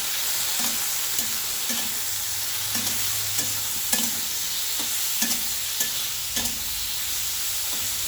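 Flat beans fry with salt and turmeric in a pan, a steady close sizzle broken by regular scraping stirs about every half second, with no voices.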